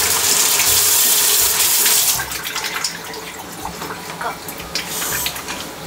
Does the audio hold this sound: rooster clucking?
no